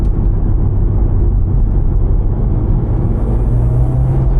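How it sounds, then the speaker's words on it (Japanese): A Mitsubishi Lancer Evolution X with 280 horsepower and an S-SST gearbox, running in sport mode. Its engine gives a steady, loud low rumble from inside the car, and a higher tone rises near the end as the revs climb. "そうすると今2000回転ぐらいで走ったのが3000回転以上で高回転一気にですね"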